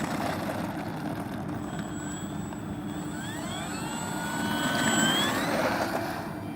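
E-flite T-28B Trojan 1.2m RC airplane taking off with flaps set, its electric motor whining and rising in pitch over steady outdoor wind and rumble, loudest near the end.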